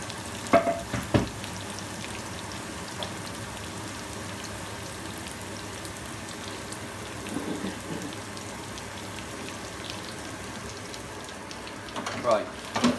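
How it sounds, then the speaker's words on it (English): Potatoes for Spanish paprika potatoes frying in a pan give a faint, steady sizzle, with a few sharper clicks and scrapes from stirring. "We mix that in with the fried potatoes."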